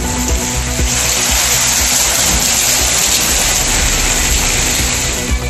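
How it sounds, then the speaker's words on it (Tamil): Heavy rain pours down steadily over Kovilpatti in Thoothukudi district, a dense, loud, unbroken hiss of water falling and splashing that lasts throughout with no voices. "தூத்துக்குடி மாவட்டம் கோவில்பட்டியில் வெப்பத்தை தணித்த கனமழை."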